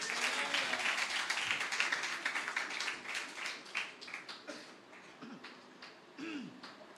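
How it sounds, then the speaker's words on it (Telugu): A church congregation claps loudly during a worship testimony, a dense run of hand claps that is strongest at first and then thins and fades into scattered claps. "న్యాయమైతే గట్టిగా చప్పట్లు స్తోత్రం"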